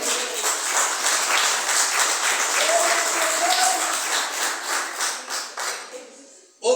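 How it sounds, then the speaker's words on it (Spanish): Congregation applauding during a church sermon, a steady wash of many hands clapping that fades over several seconds before a sudden loud knock at the end; a voice murmurs faintly beneath. "Denle un aplauso al Señor"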